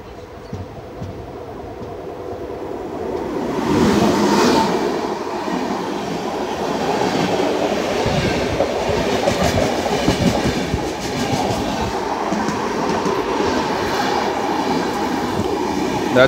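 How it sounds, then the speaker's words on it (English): A train rolls by on a neighboring track in India, its wheels clattering steadily as the rumble swells and holds close by. "There's some train approaching on the other line."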